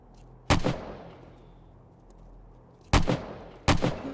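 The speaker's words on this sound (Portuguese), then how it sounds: "Você tava atirando mesmo?" Gunfire from the zombie survival game 7 Days To Die, Ravenhearst mod: three sharp, loud single shots, the first alone and two more close together later, with a quiet background between them.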